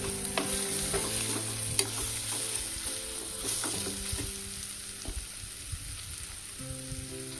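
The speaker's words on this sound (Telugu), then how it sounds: "కొరియాండర్ యాడ్ చేసుకున్నాం, ఒక 2 స్పూన్స్. ఒకసారి మిక్స్ చేసుకోండి బాగా." Steady stirring of coriander into a Godavari-style mango prawn curry in a pan, with a soft continuous sizzle beneath irregular spoon scrapes and clinks, close and moderately quiet, no voices.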